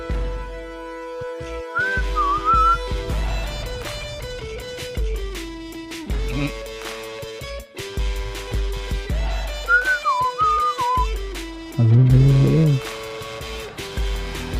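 A person whistling a wandering melody in short phrases, separated by pauses, over a layered musical backing with sustained tones and occasional louder bursts.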